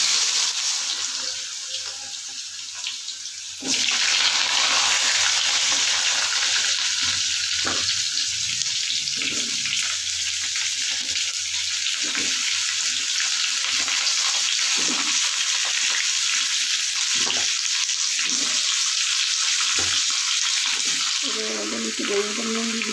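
Pumpkin pieces dropped into hot oil with tempering spices, a sudden loud burst of sizzling that settles into a steady, dense frying hiss with occasional stirring scrapes, close up.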